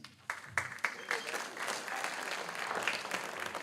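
A high school senior recognition night audience claps for an honored student, starting with a few sharp separate claps that quickly swell into fuller, steady applause from the room.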